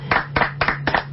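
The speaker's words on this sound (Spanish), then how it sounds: "Aplauso." An audience claps after a musical performance, with four sharp, evenly spaced bursts of hand claps over about a second, close and fairly loud.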